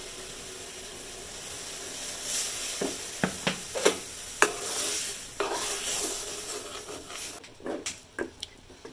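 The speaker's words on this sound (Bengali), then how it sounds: "এখানে জলটা ফুটছে, আমি চালের গুঁড়াটা দিয়ে দেবো।" Rice flour being stirred into a pot of boiling water while making Bengali chushi pitha, with a run of scraping, knocking stirring strokes against the pot over a soft bubbling background, no talking.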